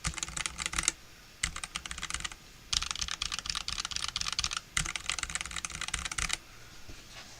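Fast clicky typing on a computer keyboard fitted with new keycaps, in four dense bursts separated by short pauses, crisp and close with no voices.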